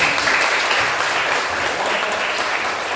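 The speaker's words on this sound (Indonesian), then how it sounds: "tepuk tangan" A group of listeners applauds together with a thick, even wash of clapping that stays at a steady level for a few seconds.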